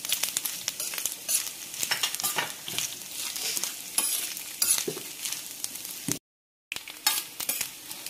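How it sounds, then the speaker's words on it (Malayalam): Coconut pieces sauté in a pan for a Kannur-style koottukari, giving a steady close sizzle with light stirring scrapes and one brief silent gap near the end, with no talking. "ഈ തേങ്ങ കൊത്തൊക്കെ നല്ല ബ്രൗൺ കളർ ആവുന്നത് വരെ നമുക്ക് ഇതിനെ വഴറ്റിയെടുക്കാം."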